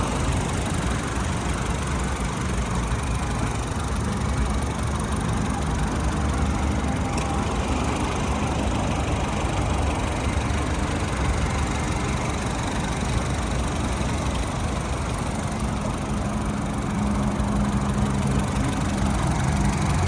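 A Honda Civic FB 1.8-litre car engine idles steadily with a smooth, even rumble throughout, no talking over it.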